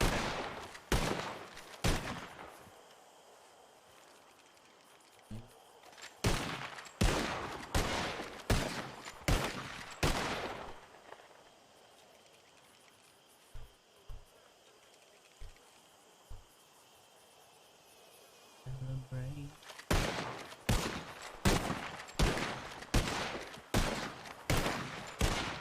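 Gunfire on a shooting drill in a Wild West roleplay video game comes in several rapid volleys of loud, sharp shots, separated by quiet pauses where faint insect chirping fills the background.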